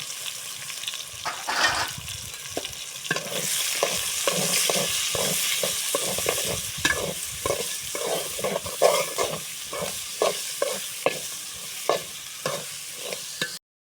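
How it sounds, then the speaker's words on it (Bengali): Chopped onion and carrot stir-fry in oil, a continuous sizzle broken by a rhythmic series of spatula scrapes and clacks against the pan, close and fairly loud, with no talking. "গাজর হালকা ভাজা হয়ে গেছে,"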